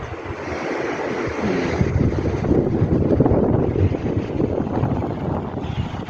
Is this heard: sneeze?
no